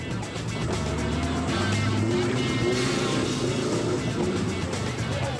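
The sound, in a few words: Ford Ranger race truck driving in off-road race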